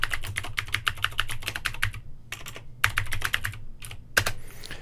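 Quick, close clicking of computer keyboard keys as a web address is typed, in irregular bursts with short pauses between groups of keystrokes.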